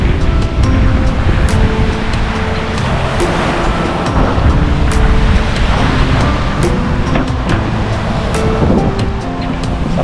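Steady ocean surf at Pulahan Beach, Lubang Island, Occidental Mindoro, Philippines, washes in continuously with a constant roar, mixed with wind buffeting the microphone; no voices.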